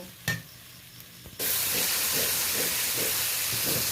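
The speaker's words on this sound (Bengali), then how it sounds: "হালকা আঁচে এটা 2 মিনিট ধরে ভালো করে কষিয়ে নেব।" A paste of poppy seeds, green chilli and salt goes into a hot pan over low flame and fries. A few soft knocks come first, then a sudden loud, sustained hiss and sizzle with faint rhythmic stirring underneath.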